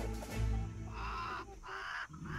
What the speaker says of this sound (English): What about the crow?